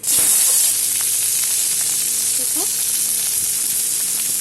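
Steady sizzling of onions frying in a pan, a constant hiss with a few soft clinks of stirring, no voices.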